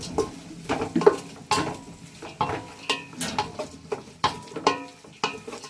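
Onions for chicken biryani sauté in a pan, heard as a quiet sizzle broken by repeated scraping and stirring strokes of a utensil against the pan, no voices.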